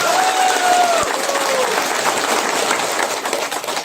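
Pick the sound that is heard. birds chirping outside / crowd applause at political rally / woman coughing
crowd applause at political rally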